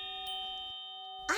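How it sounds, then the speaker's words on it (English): A 'time's up' bell rings as a sustained metallic tone with steady bright overtones, holding through most of the moment before a burst of other sound cuts in at the end. "It's the Time's Up bell."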